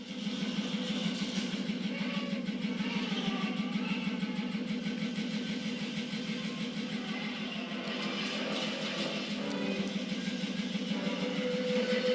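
Car engine sound effects from a Star Wars film soundtrack, a steady mid-pitched motor hum with rhythmic pulsing, idling and revving, continuous and moderately loud throughout with no talk.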